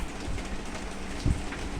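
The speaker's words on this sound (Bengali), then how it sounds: "বৃষ্টির শব্দ শুনতে পাইতাছেন? দেখেন কি বৃষ্টি হইতাছে রে ভাই" Heavy rain pours down on a city street in Dhaka as a dense, continuous close-up patter, with a slightly louder splash or thump partway through.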